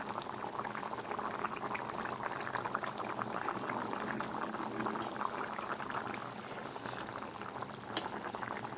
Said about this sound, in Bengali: ঝোলটা এইভাবে ফুটছে।